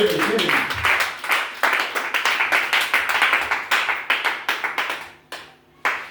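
A church congregation claps and applauds to acclaim Jesus Christ, with loud, dense rhythmic clapping that carries on for several seconds before thinning out to a few scattered claps at the end.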